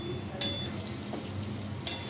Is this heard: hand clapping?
no